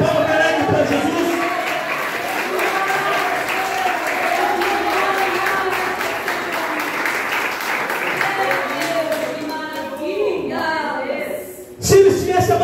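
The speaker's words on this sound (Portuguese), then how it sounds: "Dê uma salva de palmas para Jesus." A church congregation applauds during a service, with sustained dense clapping from a crowd for around eleven seconds, a voice speaking over it, before the clapping fades and a brief louder burst follows.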